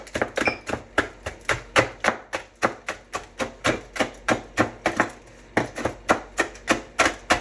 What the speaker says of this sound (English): we're going to just take this and we're going to chop it up